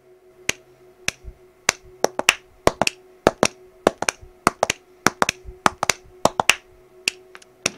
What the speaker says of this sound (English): What have I got that makes a good percussive noise nearby? There's a hairbrush here.